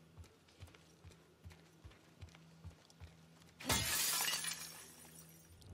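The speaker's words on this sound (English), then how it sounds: "Guess we're smashing the window." In The Last of Us Part II, window glass shatters with one loud crash and a spray of tinkling shards, preceded by a series of soft rhythmic footsteps or knocks.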